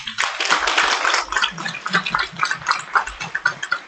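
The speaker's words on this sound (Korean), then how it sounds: "다시 한 번 큰 박수 부탁드립니다." An audience applauds loudly with dense, continuous clapping at a Korea Arboreta and Gardens Institute ethics and human rights management declaration ceremony, thinning slightly toward the end.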